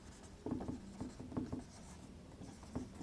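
Chalk or marker strokes on a board during a calculus lecture on differentiation, a quiet run of short scratchy taps and scrapes in uneven bursts, close and fairly soft, with no talking.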